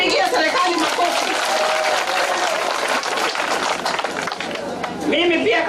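A large crowd of displaced people at a relief-aid handout with a health minister claps loudly and steadily for the whole stretch, with voices mixed into the dense applause.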